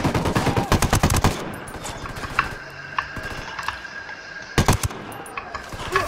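Gunfire in Ghost Recon Wildlands, with rapid bursts of automatic fire up close at the start, scattered single shots further off, then another burst near the end.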